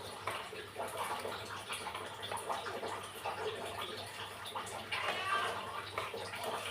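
Curry simmering in a pot, giving a steady close bubbling and burbling wash of liquid that carries on without a break, with a faint low background hum.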